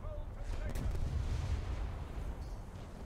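Heavy naval cannon fire from a warship in the video game War Thunder booms in deep rumbling blasts, one strong report followed by a rolling low roar of continued shelling.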